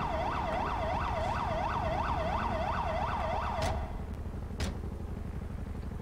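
An ambulance siren wails in a roleplay video game, a rapid repeating yelp that runs steadily for several seconds, then cuts off, leaving low engine rumble and a couple of sharp clicks.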